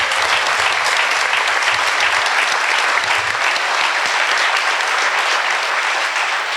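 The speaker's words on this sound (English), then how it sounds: "give them a round of applause" Steady, sustained applause from a large crowd at a high school ribbon-cutting ceremony, dense clapping at an even level throughout with no pauses.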